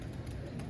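Pigeons coo softly in a low, continuous murmur at a coop with cages, close by and steady throughout the brief moment.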